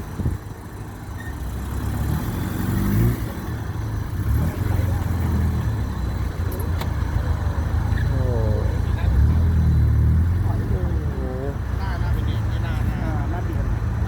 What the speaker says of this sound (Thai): เครื่องคาบูนะเนี่ยสตาร์ททีเดียวนะเนี่ยติดเลยอะ